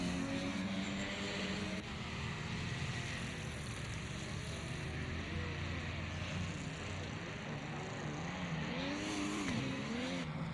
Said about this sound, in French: Ça glisse à l'accélération ici une nouvelle fois.